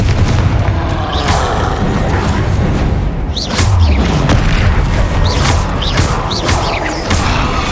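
Confringo fire spells exploding in the Hogwarts Legacy video game: a run of loud, close booms and crashes spaced a second or so apart, with whooshing bursts between them.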